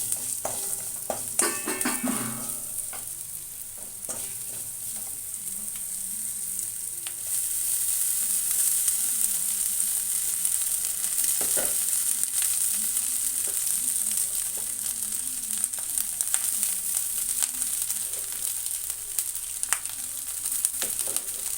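Spiced rice is stirred and mixed in a hot pan, a light steady sizzle with occasional scraping and clinks of the spoon, moderately quiet and without voices.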